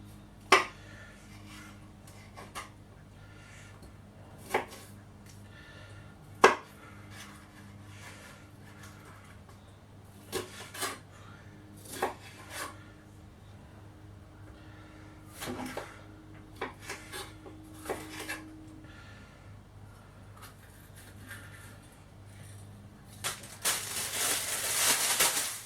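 Knife chopping ingredients for a chicken pasta bake on a board, giving sparse sharp taps and clicks scattered irregularly over a low steady hum, with a brief louder rustle near the end.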